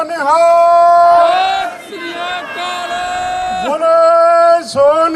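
Massed voices roar the Sikh jakara war cry at a Kisan Ekta rally in Hamburg, Germany, a single leader's call answered by a loud, sustained crowd shout that swells, dips, then rises again.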